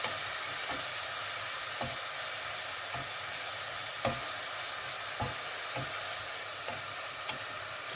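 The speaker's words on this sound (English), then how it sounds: "Just let that fry a little bit." Pork tenderloin fries in a pan for a pork and pineapple dish, giving a continuous bright sizzle with regular soft clicks of a utensil against the pan.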